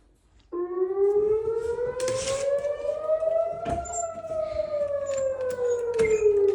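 An air raid siren sounds a pre-alert attack signal, starting abruptly and wailing loudly as one long tone that slowly rises, then falls, with faint background noises.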